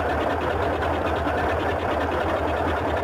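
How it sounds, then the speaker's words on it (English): Boeing 247D radial engines idle steadily in Microsoft Flight Simulator, a continuous loud, even drone with a low throbbing pulse that holds unchanged throughout. "now that we have the right-hand engine running"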